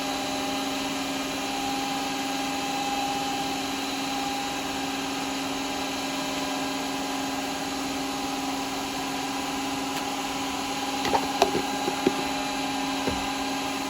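A wooden yoyo spins on a wood lathe while sanding paste is worked onto it, giving a steady, even motor hum with high whining tones that runs unbroken, then a few small scraping clicks near the end.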